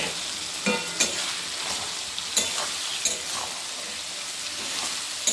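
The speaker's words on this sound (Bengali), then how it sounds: "দেখুন বন্ধুরা, মাছের তেলটা নাড়ছি, দেখুন কত তেল বেরিয়েছে।" Katla fish fat fries in a pan with potato and eggplant, crackling and sizzling steadily while a spatula scrapes and clicks against the pan in irregular strokes, close and clear.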